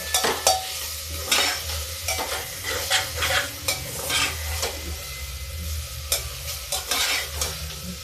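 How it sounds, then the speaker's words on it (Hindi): Greens (saag) frying in a pan as they are stirred, with scraping spoon strokes over a steady sizzle, close and fairly loud, no talking. "साग डाल के भी हम थोड़ा सा मिक्स कर देते हैं।"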